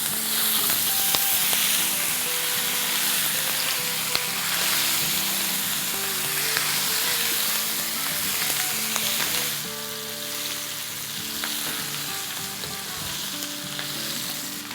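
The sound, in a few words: mutton leg (raan) and masala frying in a pan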